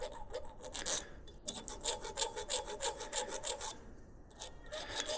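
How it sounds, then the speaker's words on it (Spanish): Small piece of sandpaper rubbed by hand against an alternator part from a Ford F-350 7.3 Powerstroke during cleaning, close and steady, with rapid rhythmic back-and-forth scratching strokes and a short pause near the end. "Voy a buscar una lijita y le damos."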